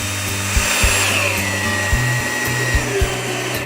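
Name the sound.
power screwdriver driving screws into pallet wood bench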